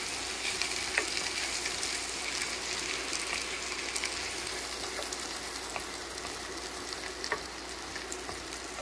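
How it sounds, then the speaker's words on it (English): Two cloves of minced garlic sizzle in a hot pan for a pork chop sauce, giving a dense, even crackle that stays close and constant, with faint scrapes of stirring. "2 cloves of minced garlic. We'll get that going in there and cook that for about a minute"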